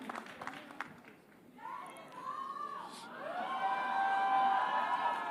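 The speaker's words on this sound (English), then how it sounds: "a big round of applause, ladies and gentlemen, for Yash" Crowd at the Ramayan trailer launch cheering and shouting for the actor Yash, starting with scattered claps and calls, then swelling into sustained high-pitched screams and whistles.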